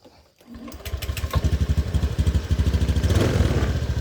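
A Honda Beat FI scooter engine with a rough-running fault starts and runs close by, a fast, loud, pulsing putter with clattering beats that steadily builds after a brief quiet start; no talking.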